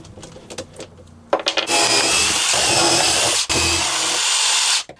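A power drill drives 2.5 inch screws into composite decking. A few light taps lead into a loud, steady, close whirring drive that pauses once briefly, then continues before stopping abruptly.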